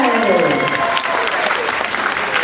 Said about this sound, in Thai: ไปขอเสียงปรบมือให้พี่เกดด้วย